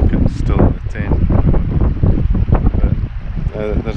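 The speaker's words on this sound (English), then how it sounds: "it's nice and windy, so the tent's already dried out from this morning" Strong wind buffets a microphone outdoors on the Cape Wrath Trail, a loud continuous rushing roar mixed with a person talking throughout.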